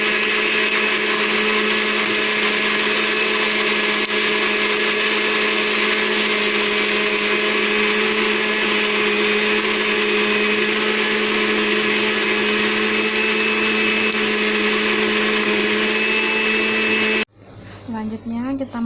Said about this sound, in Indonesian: selanjutnya kita akan masuk ini blender dulu